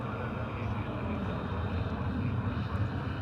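A fixed-wing jet roars steadily at Dallas/Fort Worth Airport during takeoff, a dense, broad, continuous engine rumble that stays loud throughout.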